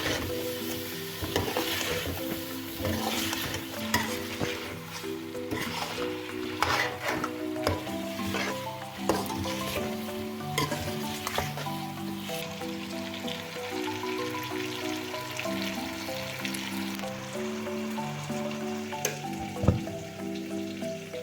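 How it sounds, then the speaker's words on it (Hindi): Chicken feet karahi fries in a pan with chopped coriander, a continuous close sizzle and crackle broken by scraping stirs, with faint music playing underneath. "तकरीबन आधा से 1 मिनट और फ्राई करेंगे"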